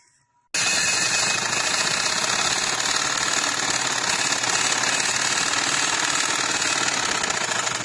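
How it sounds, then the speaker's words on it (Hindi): A sewing machine runs steadily as it stitches the side seam of a women's casual dress, a loud continuous mechanical whir and rapid clatter starting abruptly after a brief silence and holding without pause. "ये मेरी साइड सिलाई भी लग जाएगी।"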